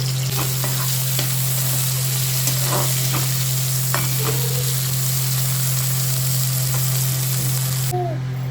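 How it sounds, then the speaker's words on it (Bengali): Vegetables fry in hot oil in a home kitchen, a steady close sizzle running throughout with occasional stirring clinks and scrapes, no talking. "এগুলো এইভাবে ভেজে নিচ্ছি।"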